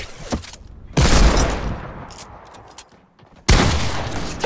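Gunshots in Fortnite: loud, close bursts of rapid fire in two main volleys separated by a quieter stretch of scattered smaller cracks, with no talk over them.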